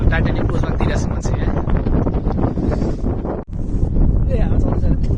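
Strong seaside wind buffets the microphone in loud, continuous rumbling gusts, with a brief dropout midway and voices faintly present beneath it.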